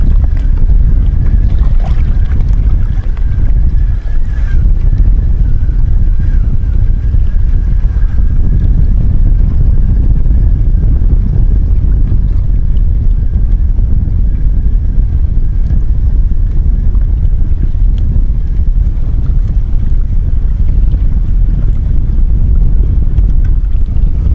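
Steady wind roaring across the microphone outdoors while fishing with a spinning rod, a continuous loud buffeting rumble with no talking.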